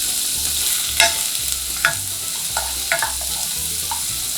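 Onions fry in sesame oil with minced garlic in a pan, giving a steady close sizzle with a few sharper clacks of a utensil stirring, and no talk.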